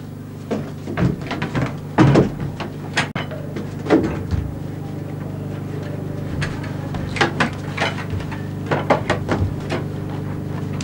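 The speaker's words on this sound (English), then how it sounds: "Michael, open this door" Fists bang on a closed door at home, irregular loud knocks and thumps in clusters over a steady low hum, close by and without talk.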